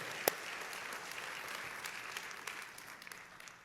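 A church congregation claps in a soft, distant wash of applause, with one sharp, close clap near the start before the sound settles into a steady, faint patter.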